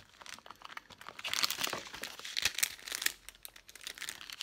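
A small packet of diamond painting drills from an embroidery and diamond painting kit is handled and opened, giving steady close crinkling of plastic with sharper crackles in the middle, no voices.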